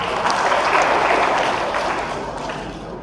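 Audience applause for a participant at a professional etiquette session: a steady, moderately loud roomful of clapping that tapers slightly toward the end.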